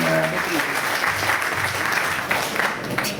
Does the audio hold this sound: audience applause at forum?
yes